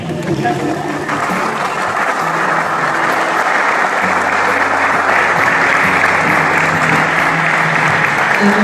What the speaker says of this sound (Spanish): Vamos a escuchar los aplausos